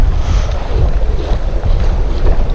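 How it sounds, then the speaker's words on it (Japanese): Strong wind blowing hard on a shore during shore jigging, a loud continuous roar buffeting the microphone, with low gusting rumble and surf-like wash throughout and no voices. "うーわ爆風や"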